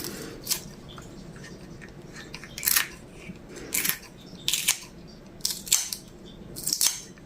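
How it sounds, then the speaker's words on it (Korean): Several sharp scissor snips at uneven intervals, crisp and close, cutting chili peppers over a quiet background with faint kitchen noise. "좀 약간 멀리서 가위로 이렇게 저는 해서 넣는 편이에요"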